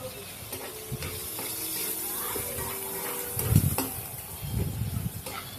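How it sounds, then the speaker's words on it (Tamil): Grated coconut is stirred and sautéed in a pan for a chutney, giving a soft, close sizzle with scraping stirs and a few louder bursts toward the end. "போட்டு நல்லா வதக்கிக்க வேண்டியதுதான்."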